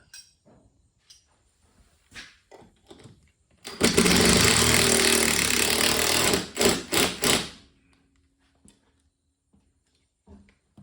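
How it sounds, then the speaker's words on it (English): A self-tapping screw power-driven through a bracket hole up into the frame of a 1966 Mustang Fastback, one loud sustained grinding burst of about three seconds ending in a few short pulses, with faint clunks before and after. "I'm going to put a self-tapper in that hole on the bracket there up into the frame"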